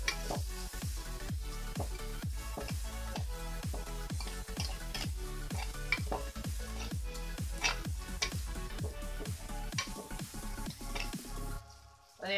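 Green chillies frying in a pan for fish molly, a continuous soft sizzle with a steady run of rhythmic ticking and stirring scrapes, close and quiet throughout.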